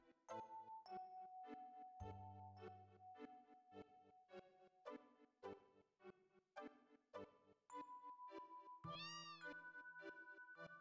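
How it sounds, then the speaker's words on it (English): A cat meows repeatedly in Final Fantasy VII, its game-voiced cries mixed with tinkling chime-like music and a rising sparkle effect, steady and close with no talking. "Hey, cat. Can I interact with the cat?"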